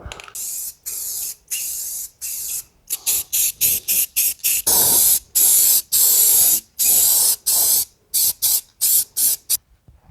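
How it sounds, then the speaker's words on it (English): Aerosol spray paint hisses in repeated bursts over a rebuilt Ford FE V8 engine for a Ford Galaxy, short loud blasts separated by brief gaps, close and steady, with no talking. "the real trick to spraying your engine is just laying on the thickest coat possible on the first run"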